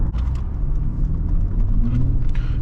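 A Range Rover Sport with a 3.0 V6 petrol engine, 292 hp, runs on the road with a steady low engine rumble and faint whir, heard from inside the car without any talk.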